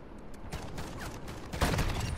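Rapid gunfire bursts in the video game Call of Duty: Modern Warfare 2, a string of sharp cracks with a louder burst near the end, fairly close and steady throughout.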